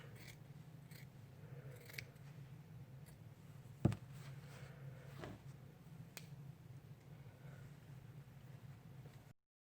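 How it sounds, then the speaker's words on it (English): Scissors snip and trim the stitched fabric of a face mask at close range, with soft cuts and clicks through the clip and one sharper snip near the middle, all under a steady low hum. "I'm going to snip and go across and just trim this off"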